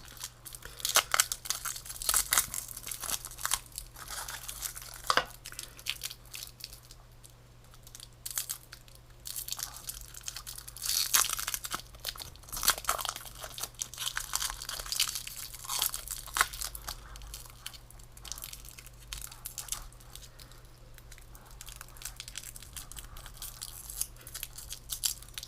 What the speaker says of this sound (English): I haven't actually unwrapped this, so let's have a go at doing that.